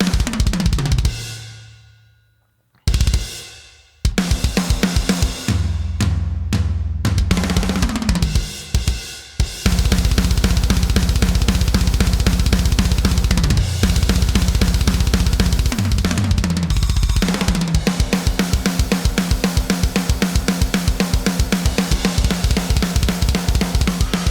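A raw, unprocessed drum kit plays steadily, punchy kick and snare hits with busy cymbals in a driving rhythm after a few sparse opening hits.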